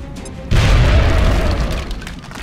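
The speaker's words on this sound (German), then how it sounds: "Werfe Granate!" A grenade explodes in the video game XCOM: Enemy Within, a sudden deep boom after a quiet moment that rumbles loudly and slowly fades over two seconds.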